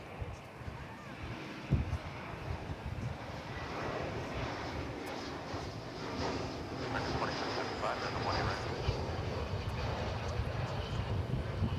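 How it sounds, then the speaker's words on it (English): An American Airlines Airbus A321 jet arrives from Denver at Dallas/Fort Worth airport, its engine roar a steady broadband rumble that slowly swells louder, heard outdoors with wind noise. "Arriving from Denver is this Airbus A321 American Airlines."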